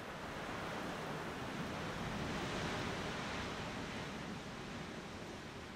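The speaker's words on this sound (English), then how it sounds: "Outside, a cold wind blows and the thermometer falls below freezing." Cold wind blowing outdoors around a farm hamlet in the mountains of Auvergne's Massif Central, a steady broadband roar that holds evenly without gusts or pauses.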